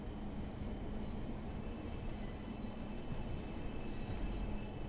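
Train in Train Sim World 5 on the West Coast Main Line near Preston, a steady rumble of wheels on rails with faint squeal and clatter. It plays alone with no voices.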